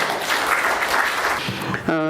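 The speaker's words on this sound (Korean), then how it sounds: "박수 부탁드립니다." Audience applause at a seminar on the distortion of the May 18 history, welcoming a presenter; steady clapping that fades near the end as a voice begins to speak.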